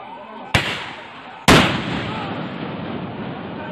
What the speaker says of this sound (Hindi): अभी जो आपने गोली की आवाज सुनी थी वो असम पुलिस ने चलाई थी